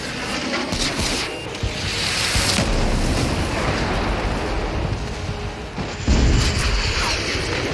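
Bombs detonate in the combat flight game Ace Combat 7, a series of deep booming blasts over a constant roar of engines and battle noise, with a heavy explosion near the end.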